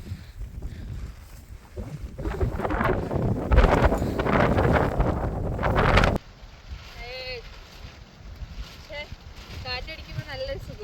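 Strong wind gusts on a misty Karnataka mountain trail buffet the microphone in a rough, roaring stretch, then drop away as a person starts talking.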